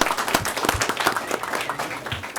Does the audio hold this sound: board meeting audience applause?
yes